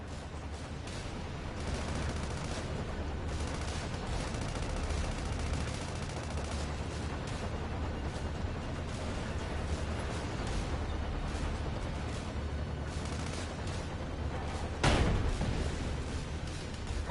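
Sustained gunfire rattles through a SandLand video game battle, a steady, fairly quiet stream of shots lasting throughout, punctuated by one sharper, louder report near the end.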